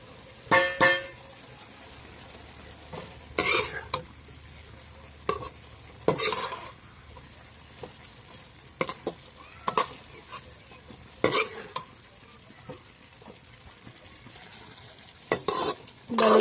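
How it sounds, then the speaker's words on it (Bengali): Spices such as turmeric, chili powder, meat masala and cumin are stirred into food frying in a pan, giving scattered scraping and clattering strokes over a faint background sizzle. "ভালো করে মিক্স করে নিয়েছি"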